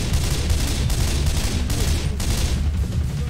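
Continuous rapid gunfire from Left 4 Dead 2, loud, dense automatic bursts blending with shotgun-like booms, sustained without pause throughout.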